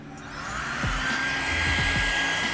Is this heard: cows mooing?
no